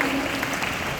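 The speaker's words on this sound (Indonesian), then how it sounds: "Boleh tepuk tangan sekali lagi" Applause for Bastian and Jeremy at a Prudential Final Sprint 2025 event, a short wash of continuous clapping from a crowd, fairly soft and even.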